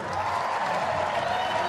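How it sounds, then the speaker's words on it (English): A large stadium crowd at the US Olympic women's track and field trials in Oregon roars in a steady, dense wash of cheering and applause ahead of the 100m final, loud and continuous with no break. "Listen to the crowd."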